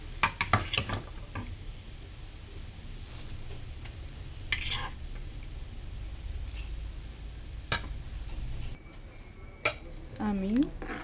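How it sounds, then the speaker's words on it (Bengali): Ghee-fried carrots are stirred into milk in a pan for carrot halwa, with soft scraping, wet stirring and occasional sharp clinks of a spoon against metal; a brief voice-like sound appears near the end. "আমি গাজরকে ভালো করে দুধের সাথে মিশিয়ে দেব।"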